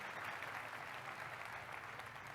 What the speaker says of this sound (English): Round of applause for the drum line,